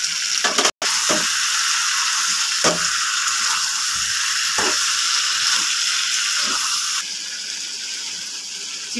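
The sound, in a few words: chicken frying in a pan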